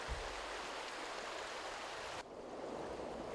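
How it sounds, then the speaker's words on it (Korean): A shallow, fast-flowing riffle on the Donggang River in Korea rushes over gravel and stones, making a loud, constant roaring wash of water with no other sounds. "빠르게 흐르는 물이 돌과 부딪혀 내는 소리 때문에 여울의 물소리는 요란하다"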